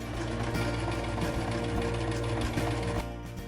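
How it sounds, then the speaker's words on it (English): A sewing machine runs the main seam line over the back of a historically styled cat hood, a close, steady rapid whir lasting about three seconds before it slows and stops. "Then it is time to sew the main seam line over the back of the hood, after which it can again be zigzag finished."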